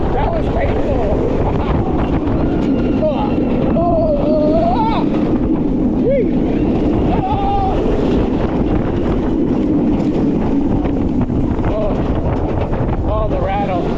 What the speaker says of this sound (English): The B&M rattle is strong.